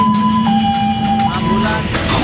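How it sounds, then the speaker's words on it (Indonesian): A loud wailing ambulance siren sweeps through its tones over passing traffic noise, close and continuous, as ambulances head to a fire. "Sejumlah ambulans tampak masuk menuju ke lokasi kebakaran."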